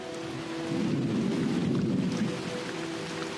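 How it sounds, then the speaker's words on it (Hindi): Unseasonal thunderstorm over the northern Serengeti: a steady wash of rain with a deep, swelling rumble of thunder rising in the middle and easing off, continuous and fairly distant. "नॉर्दर्न सेरेंगेटी में बेमौसम बारिश कोई अनोखी बात नहीं है।"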